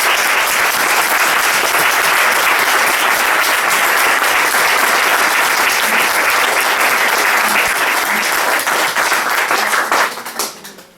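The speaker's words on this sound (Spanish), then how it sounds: "os voy a pedir a todos que le demos un aplauso fuerte a los patriotas de Blanquerna" Sustained, dense applause from an audience at a Falange book presentation, cheering patriots; the clapping stays loud and steady throughout, then tapers off abruptly at the very end.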